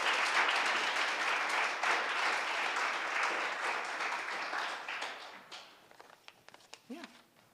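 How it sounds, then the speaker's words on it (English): A room of listeners at a panel event gives a warm round of applause, the dense clapping steady for about five seconds before thinning out into scattered claps and a brief murmur of voices. "let's just give a round of applause to people who've made this possible"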